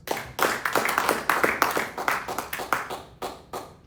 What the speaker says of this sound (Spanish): Denle aplauso a Dios.